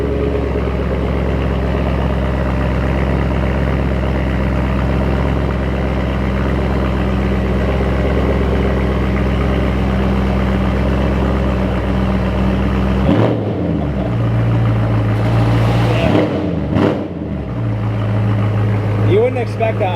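A converted BMW 1M 1 Series fitted with an S65 V8 idles close by with a deep, steady rumble. Near the end the tone changes and there are a few short revs, with what seem to be faint voices in the background.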